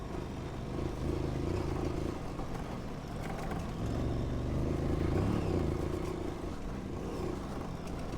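Dirt bike engine on a rocky Arizona backcountry trail, running steadily with a slipping clutch, the motor note rising and falling through a continuous low drone with faint clatter, no voices.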